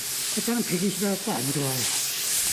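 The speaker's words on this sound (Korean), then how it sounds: "사포질을 할 때 너무 힘을 주면 황토판을 버릴 수도 있다는데요" Sandpaper rubs across a loess clay bed board in a steady, close, rasping hiss that runs through the whole clip, with someone speaking briefly over it.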